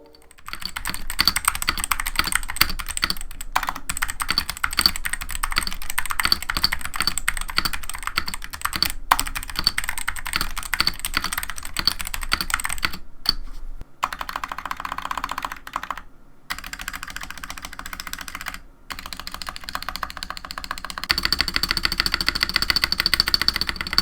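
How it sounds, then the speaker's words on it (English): Rapid, steady clacking of a stock MK61 mechanical keyboard being typed on up close, dense keystrokes continuing with a few brief pauses. "Here's how the MK61 sounds stock"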